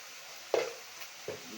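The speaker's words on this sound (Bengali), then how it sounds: "এবার নাড়িয়ে ভালোভাবে নাড়িয়ে নিলাম" Fish seasoned with turmeric and salt is stirred in a hot pan, giving two distinct scraping, sizzling strokes about three-quarters of a second apart over a quiet background.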